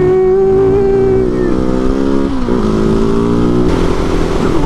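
A KTM 701 supermoto motorcycle engine revving loud and close, a steady throaty drone that dips and climbs as the rider shifts through gears.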